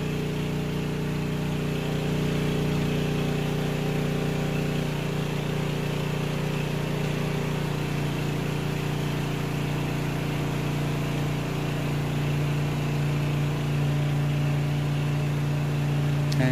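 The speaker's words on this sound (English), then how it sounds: "Lowers the RPM and then shuts down the generator." A 48V DC generator runs steadily with a loud, continuous engine hum, then drops its RPM so the tone falls, and keeps droning at the lower speed right to the end.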